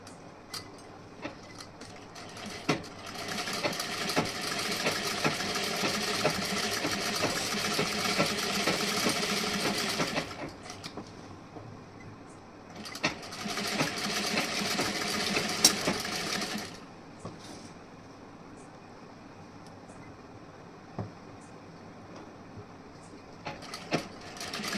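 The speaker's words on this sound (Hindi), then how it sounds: "अब इधर की साइड में हमें इसी तरीके से स्टिचिंग करनी है।" Sewing machine stitching a blouse, a steady mechanical whir running in two sustained bursts separated by a short pause, then stopping into quiet handling noises.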